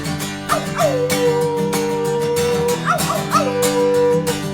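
A group of people imitate hound dog howls together, long rising and falling vocal wails held over a steady musical backing, loud and close, with several voices overlapping in a sing-along.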